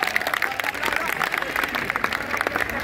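Audience applause in a hall, a steady dense patter of many hands clapping for about three seconds, with some crowd murmur mixed in.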